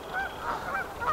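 A goose honks repeatedly at a nest island on a pond, a series of loud, close nasal honks in quick succession with no talking.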